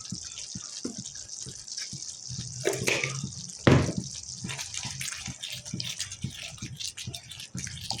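Coconut milk sauce for ginataang hipon with sitaw, okra and kalabasa bubbles in a pot, giving irregular soft pops and gurgles at close range with a brief louder burst partway through.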